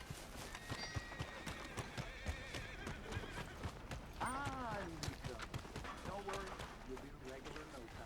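A horse in the Red Dead Redemption 2 video game gives a loud whinny partway through, amid steady galloping hoof clops, with game music and someone talking throughout.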